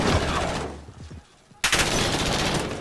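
An M13 rifle in Call of Duty Modern Warfare fires loud rapid bursts up close, pauses briefly, then opens up again in a dense volley.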